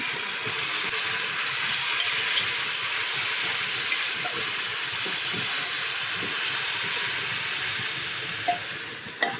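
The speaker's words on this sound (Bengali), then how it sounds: "মাংস দিয়ে দিলাম, কারণ পেঁয়াজ দিব না এখন, তাই নাড়া দিয়ে নেই।" Meat being stirred as it cooks in a hot pan for kebab: a continuous loud sizzling hiss with occasional soft scrapes and clicks of the spoon.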